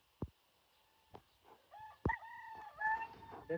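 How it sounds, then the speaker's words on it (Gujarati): A rooster crows at a distance in the morning, its drawn-out call rising and falling, amid a few sharp clicks and faint bird sounds in a quiet setting. "સવારમાં કુકડા બોલે છે અત્યારે"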